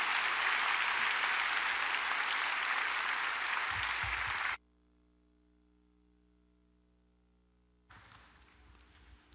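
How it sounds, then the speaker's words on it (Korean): A church congregation at a Korean revival meeting in Fullerton, California applauds as the guest pastor comes out: dense, loud, sustained clapping for about four seconds, then a hush, then softer clapping returning near the end. "우리 목사님 나오실 때 박수로 하나님께 영광 돌리시고"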